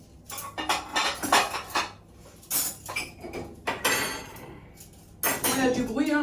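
Dishes, cups and cutlery clinking and clattering during household cleaning, irregular bursts of clatter close by, with a voice speaking now and then between the clinks.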